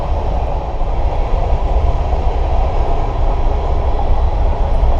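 Train rolling past near the St Joe River, a steady loud rumble and rattle of rail cars close by, with no horn and no voices.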